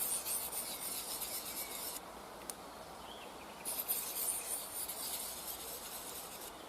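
A knife blade rasps faintly over a rough diamond sharpening stone in repeated scraping strokes, with a short lull partway through and a quiet background.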